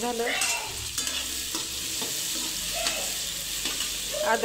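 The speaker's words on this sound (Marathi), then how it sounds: "टोमॅटो पण थोडे भाजून झालेत, आता त्याच्यात टाकूया थोडंसं अद्रक" Tomatoes roasting in a pan with a little ginger added, stirred steadily: a continuous close sizzle broken by repeated scraping strokes of a spatula, with no voices.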